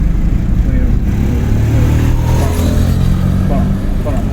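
A car's engine drones and builds steadily during a driving lesson, a continuous low rumble heard from inside the cabin under ongoing conversation.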